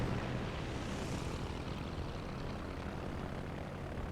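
Propeller torpedo planes droning overhead in the naval battle game World of Warships, a steady engine hum that stays even and fairly distant, with no voices.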